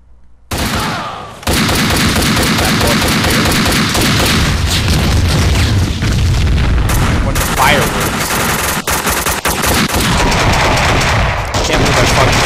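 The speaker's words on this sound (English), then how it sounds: "Fireworks." Dense, continuous barrage of booming bursts and crackling pops from fireworks in the video game Max Payne 2, loud and sustained after a brief quiet opening, with explosive hits layered throughout.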